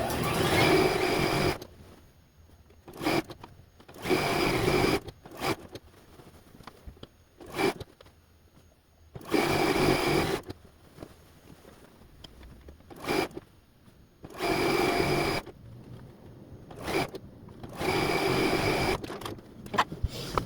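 A sewing machine stitches the long seams of a large quilt top in repeated bursts of rapid mechanical whirring, separated by quiet pauses while the fabric is adjusted, close and fairly loud.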